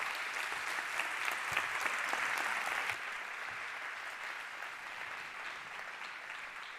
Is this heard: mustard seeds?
no